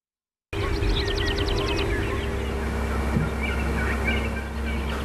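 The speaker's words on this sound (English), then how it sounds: "We leave you this Sunday morning after Thanksgiving in the company of wild turkeys" Wild turkeys gobble outdoors on the Little Missouri National Grassland, with one rapid rattling gobble near the start, a few softer calls after it and a steady breezy background.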